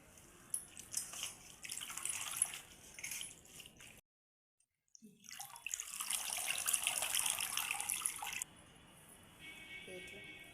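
Coriander leaves are rinsed under a running kitchen tap, with water splashing and trickling into a sink in two bursts separated by a short silent pause.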